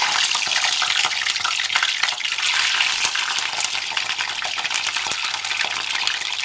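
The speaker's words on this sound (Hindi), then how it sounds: "तेल जब हमारा गर्म हो जाए, हम यहाँ पे डालेंगे अंडे। अंडे डालने के बाद हम 1 मिनट फ्राई कर लेंगे" Eggs frying in hot oil, a loud, dense crackling sizzle that runs continuously and close up with occasional sharper pops.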